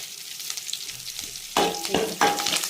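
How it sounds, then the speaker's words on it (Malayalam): Curry leaves drop into hot oil with three-quarters-cooked onion in a pan for a Kerala banana flower thoran. After quiet stirring, a loud burst of sizzling and crackling flares up, then surges again as the pan is stirred. "ഉള്ളി 3/4 മൂപ്പായപ്പോൾ അതിലേക്ക് കരിയാപ്പില ഊരിയിടുക."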